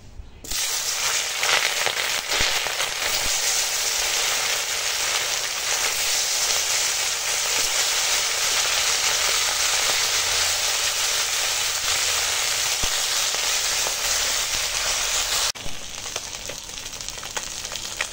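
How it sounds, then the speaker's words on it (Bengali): Parshe fish frying in hot oil, a dense, steady sizzle and crackle that runs loud and continuous for nearly the whole stretch, dropping a little toward the end, with no voices over it. "তো চলো এখন পার্শে মাছগুলো ভেজে নিই।"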